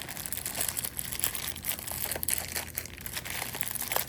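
Packing tape is pulled off a parcel of crystals during unboxing, giving a steady close crinkling and crackling with tearing bursts that runs the whole time, fairly loud, with no talk.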